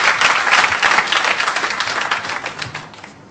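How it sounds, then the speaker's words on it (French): An audience at a Génie en Herbe quiz competition applauds a contestant, giving steady dense clapping from a crowd that holds for a few seconds and then slowly fades. "Je vous demande de l'applaudir."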